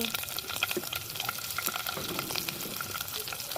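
Cumin seeds and green chillies fry in hot oil for a carrot curry, giving a steady close crackling sizzle with scattered pops throughout.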